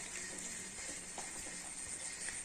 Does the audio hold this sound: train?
no